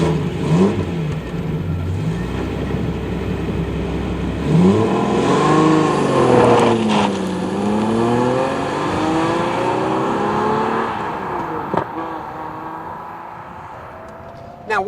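A Lister-tuned Daimler Double Six V12 is driven hard, its engine revving up and down through rising and falling sweeps, loud and close, with a voice talking over parts of it.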